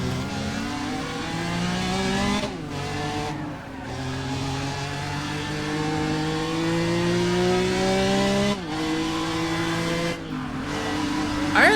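A BMW M3 with straight-cut gears revs hard in Need for Speed ProStreet, its engine note climbing in long steady pitch sweeps, dropping briefly at gear changes, then rising again, loud and continuous throughout.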